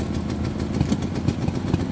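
A Ural K-750 motorcycle engine has just started and idles with a low, uneven chugging pulse. The sound is moderately close and steady over two seconds.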